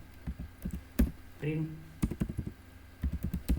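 Computer keyboard typing while writing a simple C print program: rapid clusters of close, crisp key clicks in short bursts, with brief pauses between runs and a voice speaking over part of it.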